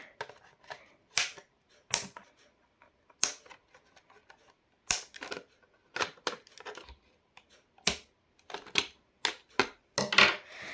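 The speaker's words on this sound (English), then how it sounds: "Now for your most favorite part, the snipping." Cutters snap Transformers Gamer Edition Cliffjumper toy parts free of their sprue in a series of sharp, close clicks. The snips come singly or in quick pairs at irregular intervals, with quiet gaps between them and no talking.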